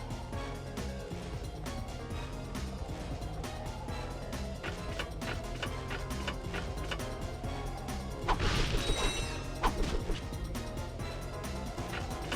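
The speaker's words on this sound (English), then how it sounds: "I swung my wrench there, game." A wrench swings and strikes in the Ratchet and Clank video game, a whooshing thwack that rises briefly over steady, loud game music and ambience.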